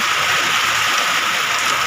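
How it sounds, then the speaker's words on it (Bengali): Heavy rain falls outside at midday, a steady broadband hiss of water without a break, close and fairly loud, with no voices. "বাইরে দেখো কি পরিমাণে বৃষ্টি নেমেছে দুপুরবেলা"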